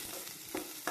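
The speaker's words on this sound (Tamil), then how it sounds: "வெங்காயம் வதங்கினது," Onions sauté and sizzle in a pan with a couple of soft stirring scrapes while coriander chutney is cooked, a quiet, steady frying hiss up close with no talking.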